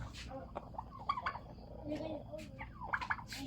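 F2 hybrid chickens cluck and call in short, scattered bursts in a morning coop, some bursts close and sharp, with a low rumbling background between them.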